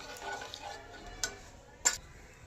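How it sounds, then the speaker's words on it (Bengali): Spice paste for a vegetarian matar paneer being stirred and fried in a pan, a soft steady sizzle under a few sharp utensil scrapes against the pot. "এটা আমি 10-15 মিনিট ভালো করে এটাকে কষিয়ে নিই"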